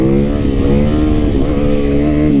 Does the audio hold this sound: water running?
no